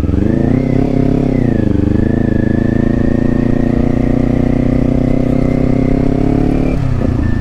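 A Kawasaki 400cc big bike cruising in fourth gear, its engine humming loud and close in a steady, even drone, the pitch climbing slightly before easing off near the end.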